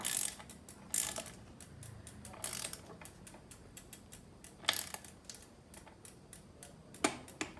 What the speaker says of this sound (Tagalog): Yan. Tumunog na. So okay na yun. Yan ang kagandahan sa torque wrench.